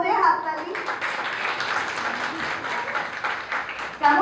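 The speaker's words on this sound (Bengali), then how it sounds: "একটা জোরে হাততালি।" Audience at a thanksgiving felicitation event breaks into sustained applause, dense clapping held steady for several seconds, with voices briefly heard at the start and end.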